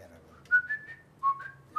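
Someone whistles a few short, bright notes while cooking in a kitchen, the phrases coming in brief, fairly quiet bursts with pauses between them.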